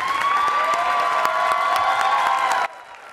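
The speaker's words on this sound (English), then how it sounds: "The audience stood and applauded for nearly a minute" An audience gives a standing ovation at the Disney Spirit Award ceremony, sustained steady applause that fills the room evenly, then cuts off abruptly near the end.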